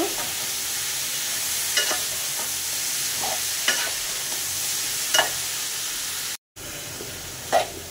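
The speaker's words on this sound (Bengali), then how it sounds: "তো আমি করলা ভাজিটাকে সুন্দর করে নাড়াচাড়া করে নিচ্ছি।" Bitter gourd (karela) bhaji sizzles loudly in a frying pan while being stirred, a steady hiss punctuated by periodic scraping strokes of the spatula and a brief cut-out near the end.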